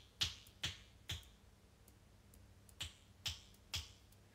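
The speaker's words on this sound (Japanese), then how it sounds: "指パッチンってどこが鳴ってるの？" Six sharp finger snaps made with the middle finger and thumb, three quick ones, a brief pause, then three more, each a close crisp click in a quiet room.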